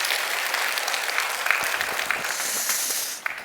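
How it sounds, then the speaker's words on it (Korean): Church congregation applauding the middle and high school youth at a dawn worship service, a steady wash of clapping that carries through and thins near the end. "여러분 큰 박수 한번 해주셔요"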